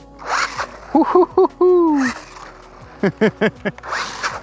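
A 1/14 carbon fiber RC buggy with a wheelie bar, running on a 3S battery, speeds past in loud bursts of high-pitched electric motor whine that rise and fall sharply in pitch, separated by short pauses.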